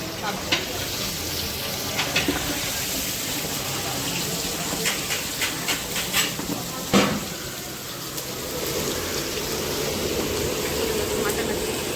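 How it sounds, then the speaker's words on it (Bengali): Marinated vetki fish fries in oil during cooking preparations at a Bengali haldi ceremony, giving a continuous sizzle. Clattering utensils, running water and people talking nearby sit over it. "এই যে ভেটকি ম্যারিনেট করে রাখা, ফিশ ফ্রাইড জন্য এখানে ভাজা হচ্ছে"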